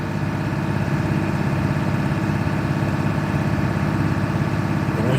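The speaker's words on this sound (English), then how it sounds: "Revving the gas up builds the air pressure up quicker." A truck's diesel engine runs steadily at raised revs to build air pressure faster, a close, loud, continuous rumble that holds constant throughout with no talk over it.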